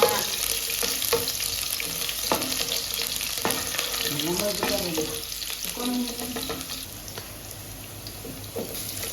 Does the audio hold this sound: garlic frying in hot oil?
yes